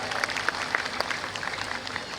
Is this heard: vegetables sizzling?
no